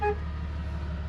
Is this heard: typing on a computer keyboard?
no